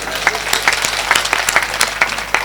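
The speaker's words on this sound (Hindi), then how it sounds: "एक बार ताली मेरे लिए भी बजा दो।" An audience at a poetry recital claps in a brief, moderately loud burst of applause, scattered hand claps blending into a steady patter with no talking.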